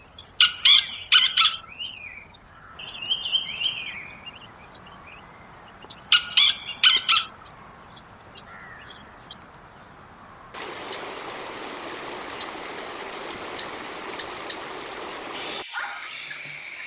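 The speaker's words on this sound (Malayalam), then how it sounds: "രാത്രിയായതും മാക്കാച്ചിക്കാടയുടെയും മൂങ്ങാളുടെയൊക്കെ ഒരുപാട് കോള് കേൾക്കുന്നുണ്ട്" Two short clusters of sharp, high bird calls ring out at night, separated by quiet, then a steady hiss of running water takes over.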